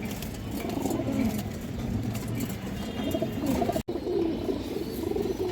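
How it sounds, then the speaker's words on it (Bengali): A male desi Kaldom pigeon coos in low, rolling, repeated calls close by, over a steady background hum with one brief dropout near the end. "একটা কালদম নর কবুতর আছে, এটা দেশি কালদম দর্শক"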